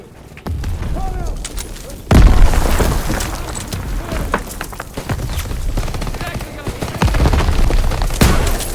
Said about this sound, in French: Lance une grenade!